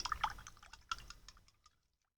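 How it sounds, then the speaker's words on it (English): An acrylic paintbrush is swished and rinsed in a water container, giving a quiet cluster of close splashy drips and taps that fade out to silence after about a second and a half. "clean your brush in the water."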